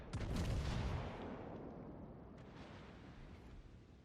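Naval guns fire in the World of Warships: Legends video game, one heavy booming salvo that rumbles and fades into a long, low roar. The sound is distant and muffled, with no voices.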